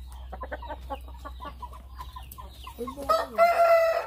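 Chickens at a new automatic feeder cluck and murmur close by in quick bursts, over a low steady hum, with a louder rising call near the end.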